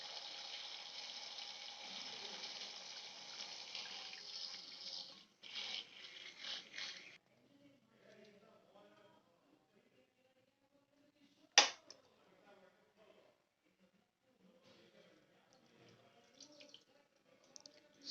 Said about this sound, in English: See, the water is coming.